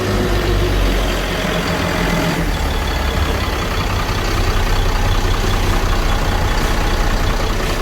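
Inside the engine room of a Swift Trawler 35, an engine runs with a loud, steady low rumble and dense mechanical hum that fills the space without any voices.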